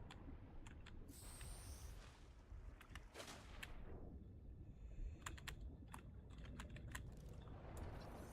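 Sharp clicking cue from an aggroed creature in the underwater game Subnautica 2, a quick irregular series of dry ticks over a low ambient rumble, with a brief shimmering tone early on.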